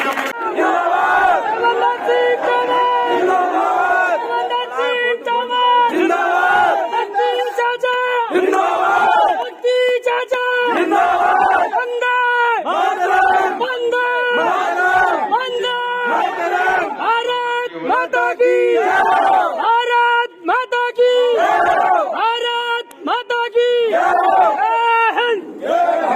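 Large village crowd at an outdoor welcome ceremony, with sustained loud cheering, shouting and clapping that runs continuously throughout, dense and close, with voices rising and falling in waves.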